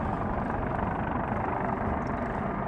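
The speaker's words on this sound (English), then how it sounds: "There's a Coast Guard helicopter flying around over here, so you may hear that in the background." A steady, dense rumble of rotor and engine noise from a Coast Guard helicopter flying around nearby over reefs at sea, continuous and fairly loud throughout with no speech.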